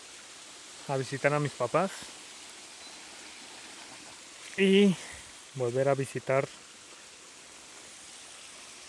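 A countryside river stream flows with a soft, steady rushing hiss in the background, heard continuously beneath someone speaking in short phrases.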